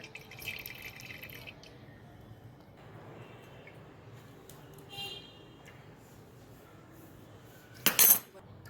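Homemade green herbal hair oil strains through white cloth, and faint drips fall in a quiet, irregular patter with light clinks of a metal pot and tongs, ending in a brief louder clatter.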